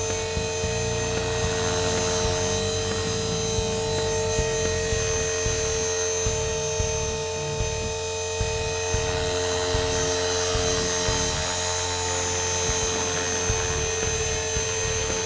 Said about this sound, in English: you're not going to fly the helicopter